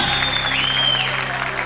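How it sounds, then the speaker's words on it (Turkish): Loud, dense applause from the audience at a live Turkish singing contest hosted on stage, a continuous wash of many hands clapping close by, with a faint whistle rising above it. "Şu iki tane gencimize bir yürekten alkış alır mıyız?"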